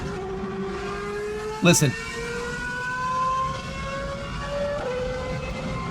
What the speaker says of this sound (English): That's a V10, dude. That's the real engine.